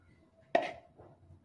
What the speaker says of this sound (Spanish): Pero es que doblo los botes para hacer menos espacio en el cesto de la basura.